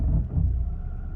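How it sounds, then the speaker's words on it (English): A VW Golf Mk6 with a 1.6 TDI engine and 7-speed automatic gearbox pulls away smoothly, giving a steady low, close diesel rumble with no talking over it. "Yeah, the car moves smoothly."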